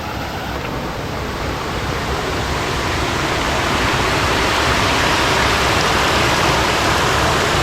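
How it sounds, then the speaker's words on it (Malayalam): Small waterfall with water flowing and tumbling down, a loud, dense, continuous rushing roar that holds steady throughout with no voices. "ചെറിയ വെള്ളച്ചാട്ടം അല്ലേ. അവിടെ നിന്ന് വെള്ളം ഒഴുകി പറഞ്ഞ് വെള്ളം ചാടി പോകുന്നു."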